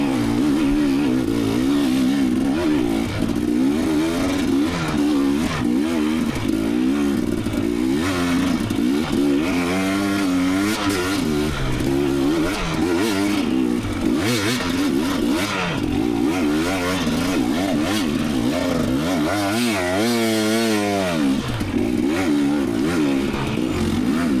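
Off-road motorcycle at Johns Peak OHV climbing a hill with a struggling clutch, engine loud and close throughout, revving up and down in uneven surges with clattering mechanical noise and no talking.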